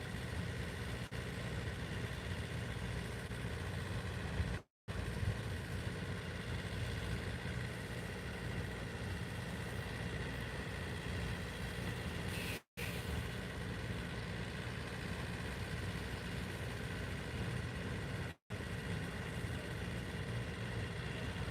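A truck engine idles in a steady, continuous low rumble that fills the whole stretch, broken by three brief cuts, with no clear talking.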